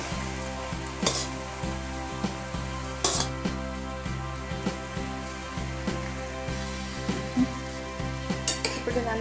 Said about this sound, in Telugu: ఇప్పుడు మనం వండి వార్చుకున్న అన్నాన్ని ఇందులోకి వేసి కలుపుకుందాం.